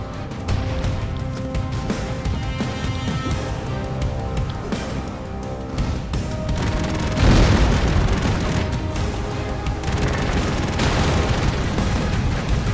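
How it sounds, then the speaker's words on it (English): In the side-scrolling action game Broforce on PS4, an enemy drops bombs that go off as heavy booms and bursts, piling up over a dense, loud backdrop of game noise, with a bigger blast about midway. "he's dropping bombs"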